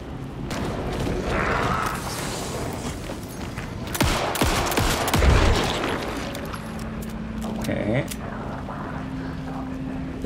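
Gunfire in the horror video game Alan Wake 2 rings out in several sharp, loud shots spread over the stretch, with game ambience and other effects between them.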